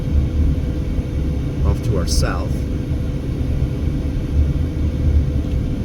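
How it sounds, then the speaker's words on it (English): A strong, gusting windstorm blows ahead of a thunderstorm in east Las Vegas, a constant heavy low rumble of wind battering the microphone while someone speaks briefly over it. "This is a good little windstorm coming through here."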